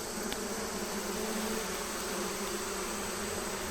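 Honey bees on a hive frame make a dense, continuous buzzing hum, with many insects droning together at a steady level.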